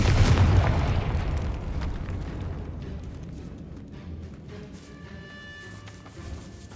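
A Confringo fire spell blasts in Hogwarts Legacy, a loud booming explosion at the start that rolls off into a long rumbling decay, with faint tonal game ambience trailing behind.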